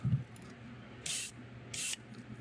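Aluminum base paint sprayed from an airbrush onto a custom shad fishing lure, two short even bursts of about a quarter second each, close and moderately loud, separated by a quiet pause.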